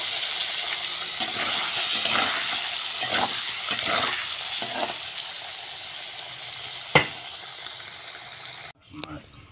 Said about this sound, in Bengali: এই যে পনির সম্পূর্ণ ভাজা হয়ে গেছে, এই যে ভেজে নামিয়ে নিলাম